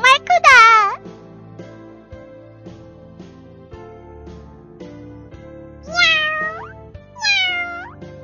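Cartoon-style cat meows in a children's math show, a few high bending cries at the start and two more later over soft background music, with a voice speaking between them.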